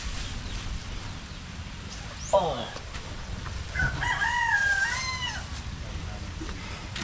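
A rooster crows once in the middle distance, its rising and falling call standing out over a steady outdoor hum, with a brief squawk just before.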